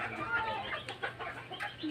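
Hens clucking close by among White Kelso gamefowl in a farm yard, a busy chorus of short clucks and murmurs with a person talking over them.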